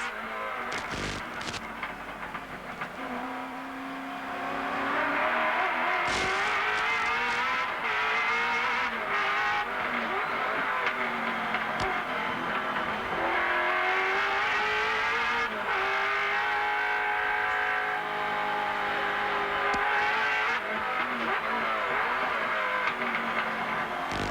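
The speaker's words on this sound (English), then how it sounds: "Travelling in the front bumper of Peter Brock's Commodore. Behind the Benson and Hedges BMW, driven by the Queenslander Tony Longhurst" On-board sound from the front bumper of a Holden Commodore touring car chasing a BMW during the 1991 Wellington street race: a loud, steady engine wail rising and falling through gear changes, with brief tyre and impact noises.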